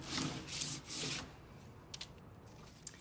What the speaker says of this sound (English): we're going to give it a really good rub